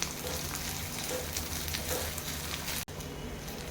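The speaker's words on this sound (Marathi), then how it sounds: "हे आपल्याला तेलावर परतून घ्यायचं आहे." Four garlic cloves and chopped ginger sauté in hot oil in a pan, making a steady, close frying sizzle that cuts out for a moment just before the end.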